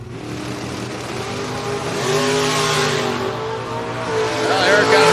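Drag race cars, a Chevrolet S10 and a Chevrolet Malibu, launch and rev hard at the strip, loud engine roar building steadily throughout, with an announcer's commentary faintly underneath.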